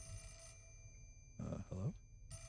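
A telephone rings in the Fatal Frame video game, with one short ring burst at the start and another at the end, and a brief voice speaking between them.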